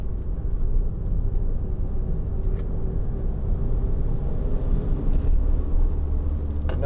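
A 2012 Skoda Yeti 2.0 TDI CR DPF Elegance diesel cruising along a road, with a steady, loud cabin rumble of engine and tyre noise that continues throughout, no voices.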